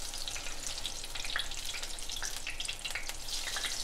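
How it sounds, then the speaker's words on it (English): Apple fritters fry in hot oil for Southern-style cooking, a soft continuous sizzle and crackle with small pops, heard quietly and alone without talk. "So I'm going to go ahead and finish frying these up"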